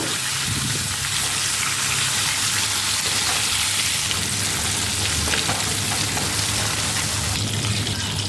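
Pieces of katla fish sizzle in hot oil over a medium flame, turned partway through frying; a loud, steady, continuous crackle and hiss fills the whole stretch with no voices.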